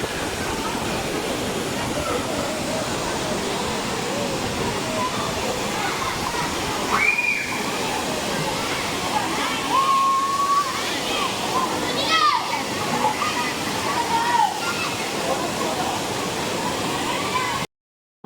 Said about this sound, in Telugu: చూసారు కదా ఎంత పెద్ద వాటర్ ఫాల్ ఉందో